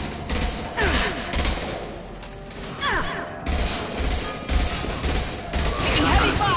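Sustained heavy gunfire from the video game Mass Effect 2, with dense bursts of automatic weapons and repeated shots over a fairly loud, busy battle background, with a voice speaking at points.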